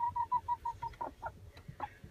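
A rooster outdoors in snowy weather gives a quick run of short, evenly spaced calls followed by a few scattered louder ones, fairly faint and alone.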